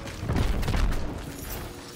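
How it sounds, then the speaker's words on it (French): Explosions crackle and boom across a roguelike game, Cryptical Path, a dense burst of blasts swelling through the first second before easing into a steady rumbling wash, loud and without speech. "il y a des explosions partout"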